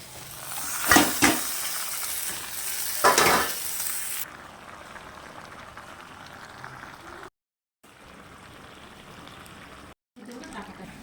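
Mutton fries with onions in a pressure cooker, two loud bursts of sizzling and scraping as it is stirred, then a quieter steady sizzle broken by short silent cuts.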